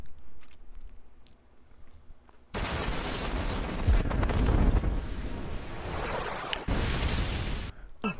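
A sudden, loud, broad roar of an explosion sound effect bursts in after a quiet start and rumbles for about five seconds before cutting off sharply, with a brief tail afterward.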